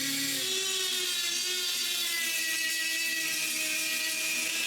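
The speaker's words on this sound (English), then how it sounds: "I take the opportunity, given that it's still in the vise, to pass a brass brush all over the sculpture." A rotary brass brush whirs over a carved wooden Canada goose held in a vise, a continuous high-pitched spinning whine with a slowly shifting pitch, close and alone.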